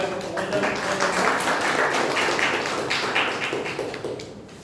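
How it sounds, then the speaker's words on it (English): An audience applauds as panelists come up to the stage at a Toastmasters panel discussion contest, a diffuse wash of many hands clapping at moderate level, with voices murmuring underneath. "The big round of applause for"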